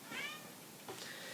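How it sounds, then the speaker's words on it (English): A cat meows twice during knitting machine use, a drawn-out cry followed by a shorter one, fairly quiet and close, with no talking. "I'm sorry for my cat meowing Rocky."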